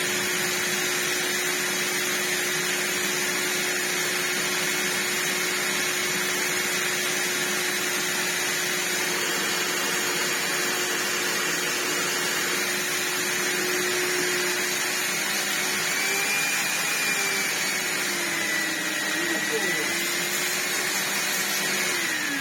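A Vax New Wave HF1400 vacuum cleaner with a faulty motor runs continuously at a steady, close whine for over twenty seconds. A faint tonal hum wavers slightly near the end.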